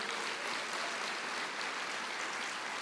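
Steady wash of applause from a church congregation, dense and even throughout, fairly quiet and distant with no voices on top.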